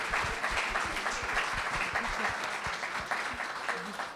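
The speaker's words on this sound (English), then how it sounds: "I never thought I'd hear a clap for a Budgerowy up this end of the coast" Audience at a writers' festival panel on the Central Coast clapping steadily throughout, a dense, moderately distant wash of applause with individual claps audible.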